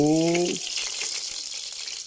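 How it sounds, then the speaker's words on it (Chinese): Oil heating in a wok on a home stove gives a steady, bright sizzling hiss that continues close by throughout, with a short voice-like tone at the very start. "起锅烧油。"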